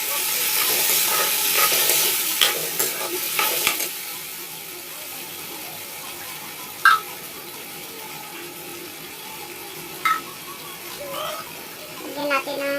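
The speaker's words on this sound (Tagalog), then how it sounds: "Lagyan natin ng tubig." Water is poured into a hot pan of sautéed sardines and papaya, setting off a loud rushing hiss of steam that fades to a softer sizzle, with a few clinks and a voice nearby.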